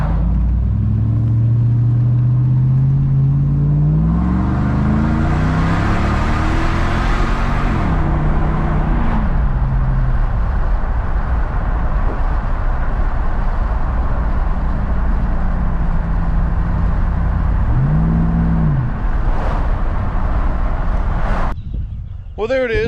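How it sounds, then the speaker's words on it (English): Hemi V8 Ram 1500 pickup with a Jegs exhaust and Jones Full Boar performance muffler, a loud steady rumble with rising and falling revs, close to the microphone, continuing almost unbroken for the whole stretch. "That Jones full bore performance muffler sounds really freaking awesome on this truck."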